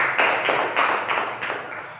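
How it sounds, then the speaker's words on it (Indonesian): A group of children clap their hands together indoors, a dense burst of claps that comes in several rhythmic pulses, close and fairly loud, with no talking over it. "tepuk tangan dulu untuk kita semua"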